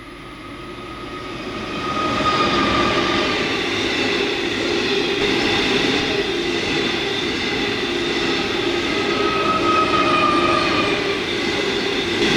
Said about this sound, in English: back toward Nebo to get a loaded train crossing Denison Creek.